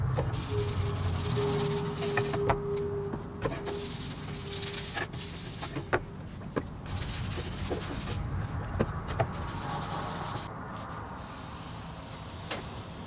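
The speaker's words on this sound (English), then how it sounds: "I'm going to use this guitar finishing oil again, get a couple of coats applied" Guitar finishing oil rubbed by hand onto a wooden crayon box diddley bow, heard as soft, close cloth-on-wood rubbing strokes in irregular bursts, with a few light taps and knocks between them.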